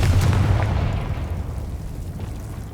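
The Confringo explosion spell in Hogwarts Legacy, a heavy booming blast that hits loud at once and then rumbles away over a few seconds.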